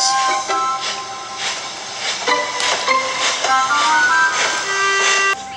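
A steam locomotive puffs steadily in rhythmic chuffs, with bright whistle-like tones and music-like notes layered over the chugging.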